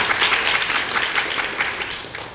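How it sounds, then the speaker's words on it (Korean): Applause from the audience at a disability policy forum on power wheelchair support, dense steady clapping that fills the room and then fades toward the end. "박수 부탁드립니다."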